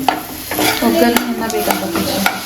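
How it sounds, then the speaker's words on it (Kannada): Spices crackle and sizzle as they hit hot oil for a South Indian oggarane tempering, with a steady frying hiss and scattered sharp pops and stirring scrapes over about two seconds. "ವೈನಿಯವ್ರು ಒಗ್ಗರಣೆ ಹಾಕತ್ತಾರ ಅಲ್ಲಿ"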